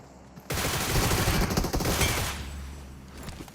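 Rapid bursts of gunfire in the PUBG Mobile battle royale game, a dense fusillade of shots that starts abruptly and runs for about two seconds before fading into quieter ambience.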